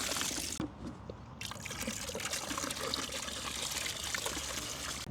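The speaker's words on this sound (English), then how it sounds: "I'll wash all the snails off into this bucket and then tip them back into the pond" Water poured and trickled steadily over pond netting to rinse snails off into a bucket outdoors on an allotment, a continuous close splashing stream with a brief lull near the start and no talk.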